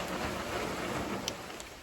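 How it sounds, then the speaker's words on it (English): Steady rain falls outdoors during a deer hunt, a continuous close patter with a couple of brief sharper drips standing out near the end. "It's hard to hear because it's raining"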